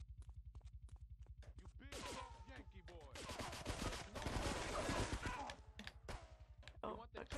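Rapid bursts of gunfire from Grand Theft Auto 3, a steady rhythmic string of shots that swells into a dense, loud fusillade before thinning into scattered single reports, with voices talking over it.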